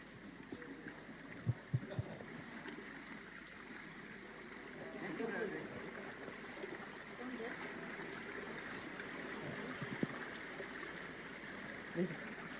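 Small creek flowing as people try to cross it, a soft continuous watery rush with faint trickles and occasional splashy knocks, fairly quiet, with voices murmuring underneath.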